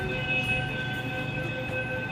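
Steady mechanical hum of a Nagpur metro train, with sustained high whining tones over a low rumble, continuous throughout and fairly close.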